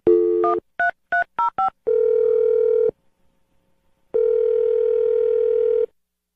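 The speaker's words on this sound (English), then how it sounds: "we're going to dial the phone number right now" A landline number gets punched in: a clipped dial tone, a fast string of keypad beeps, then two long, loud ring-back tones separated by silence, with no voices.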